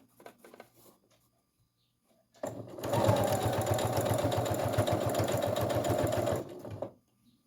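A sewing machine stitches a trim band onto a cloth baby diaper in one steady, close run of about four seconds, after a few faint handling sounds.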